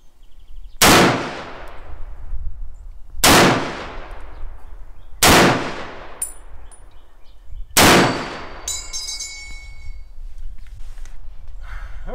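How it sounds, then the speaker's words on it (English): An M1 Garand rifle with a ported gas plug fires commercial ammunition outdoors, four loud sharp shots spaced about two to three seconds apart, each ringing out and decaying, followed by a metallic ping. "The rifle is running this ammo."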